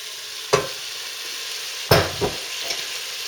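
Meat going back into a pan of translucent onions for a traditional British beef stew, with two sharp hits and a brief sizzle and stir, close and fairly loud.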